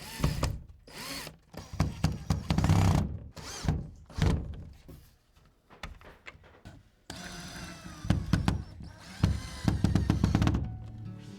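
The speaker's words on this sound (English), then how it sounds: "with the screwdriver, we're just going to drill into the wall, start slowly" An electric screwdriver whirs in repeated bursts with short pauses between as it drills into a wall, close by, along with a few thunks and knocks.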